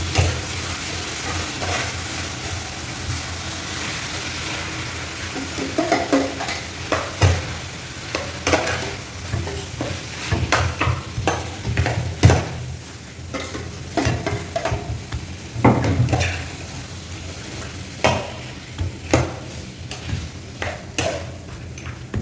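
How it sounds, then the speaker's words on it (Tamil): Parotta cooks in oil on a hot pan with a continuous close sizzle, broken by repeated scraping and tapping as it is stirred and turned, with no talking. "எண்ணெய் ஊற்றிடலாம்."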